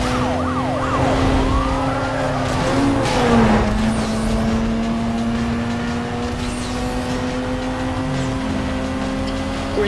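Police cars in a chase in Need for Speed Most Wanted, with wailing sirens sweeping up and down over a steady engine drone, loud and continuous throughout.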